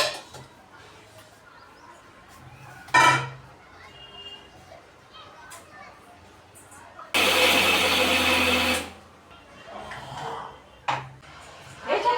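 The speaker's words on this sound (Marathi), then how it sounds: "जेवढे काही शेंगदाणे भाजलेले आहेत ना तेवढे सगळे मी एकदम पहिलं वाटून घेणार आहे" A mixer grinder whirs loudly for about two seconds as it grinds roasted peanuts into a coarse powder. Scattered knocks and clatter come before and after it, and someone talks in the background.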